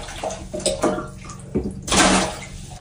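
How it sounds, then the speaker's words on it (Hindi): Water from a tap filling a bucket at home, a splashing, gushing pour with bursts of louder rushing water, close and without talk. "देखिए एक बाल्टी पानी भर लिए"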